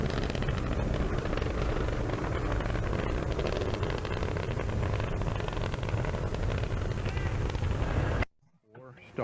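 The space shuttle Discovery roars at launch, a loud, dense, continuous rumble that fills the sound and then cuts off abruptly near the end.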